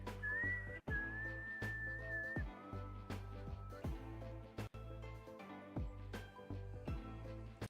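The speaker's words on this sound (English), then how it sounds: "Sorry for whistling in your guys' ears." A person whistles a clear, sustained melodic tune close to the mic, over steady background music with rhythmic beats.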